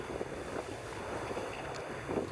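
A sailboat under one sail tacks to windward, with steady wind rush and water noise against the hull as she ploughs into waves, a constant close roar with no talk.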